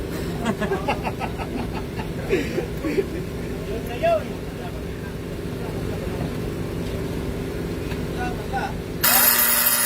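A cellphone rings with repeated tones during a basketball league game, heard amid an announcer's talk, crowd noise and gym ambience.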